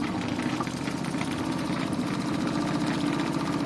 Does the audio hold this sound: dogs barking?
no